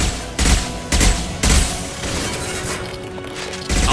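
Bursts of gunfire and heavy blasts from the Mass Effect 2 video game crack out in loud, separate hits about half a second apart, with a tonal hum between them.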